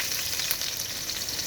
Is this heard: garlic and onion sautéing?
yes